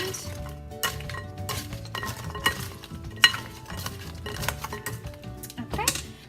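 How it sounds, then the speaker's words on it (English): A utensil stirs seasoned sausage, potato and vegetables for a bake, with close clinks and scrapes against the dish coming in uneven, rhythmic bursts. "So I'll kind of cover the entire first layer, and then I'll stir it"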